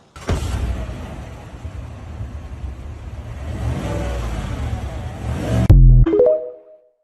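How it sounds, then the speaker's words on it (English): A V8 engine in a police-style SUV revs up loudly and close, building in pitch over several seconds before cutting off abruptly with a short tonal tail. "it's powered by a V8 with 420 to 810 horsepower"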